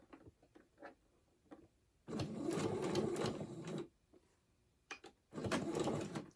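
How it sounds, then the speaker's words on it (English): A sewing machine stitches a tote bag seam in two sustained whirring bursts, each a couple of seconds long, with quiet clicks and handling sounds between them, close and alone. "I'm going to sew about 1/4 of an inch in, and then I'm going to come back and zigzag this part"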